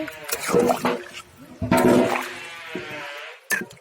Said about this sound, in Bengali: এখন আমি ঝোলটাকে দিয়ে দিচ্ছি।